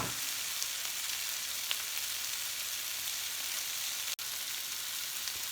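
Zucchini and squash pieces sizzle in a pan, browning with a steady, close hiss and faint crackles, broken once by a brief click.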